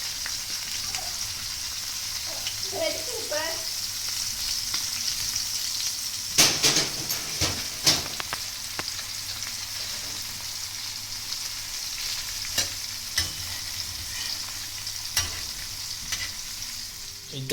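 Small pieces of Mandeli fish fry on a tawa, sending up a constant bright sizzle with scattered crackles and pops, some sharper bursts in the middle, heard up close with no speech.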